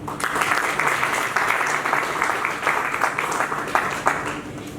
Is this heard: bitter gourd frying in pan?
no